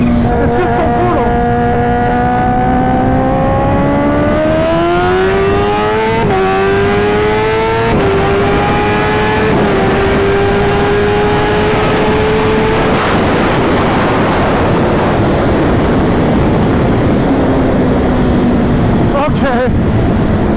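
A supercharged Kawasaki Ninja H2 motorcycle pulls hard through the gears on a private road, its engine note climbing steadily in pitch with brief dips at shifts, loud and close under heavy wind roar, then fading as it settles.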